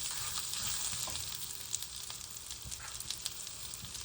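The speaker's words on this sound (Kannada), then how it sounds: "ಮೆಣಸಿನ್ಕಾಯಿ ಮತ್ತು ಕಾಳುಗಳು, ಸಾಂಬಾರೆಲ್ಲ ಫ್ರೈ ಆದಮೇಲೆ ಈರುಳ್ಳಿ ಹಾಕ್ಕೊಳ್ಳಿ" Chilies, lentils and spices frying in oil for brinjal sambar: a continuous close sizzle with scattered sharp crackles and occasional stirring, no voices.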